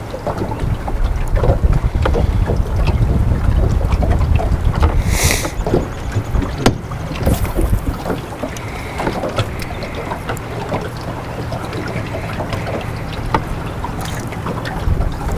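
Strong wind buffets a boat drifting down a lake, a loud rumbling gusty roar against the microphone with water sloshing, easing slightly after the first half, no talking.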